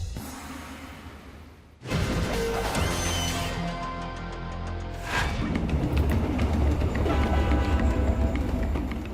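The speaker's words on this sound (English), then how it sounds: "The diesel-electric locomotive is a workhorse and power plant all in one." A diesel-electric locomotive train runs with a loud, heavy rumble and metallic clatter that starts abruptly after a brief quiet and continues steadily up close.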